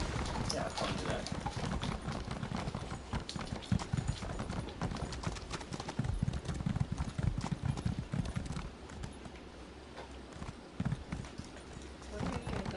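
Horse hooves clip-clop steadily in the video game ESO (Elder Scrolls Online), a continuous rhythmic trotting heard throughout, with faint game ambience behind it.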